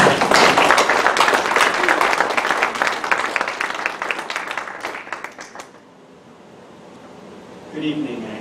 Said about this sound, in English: I hope you'll give a big round of applause for Andrew Hunt